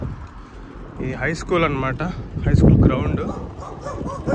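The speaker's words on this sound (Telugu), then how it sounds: "కుక్క బ్రో అరుస్తుంది." A dog barks and yips at middle distance near a high school ground in Walla Walla, Washington, partly masked by someone talking close by.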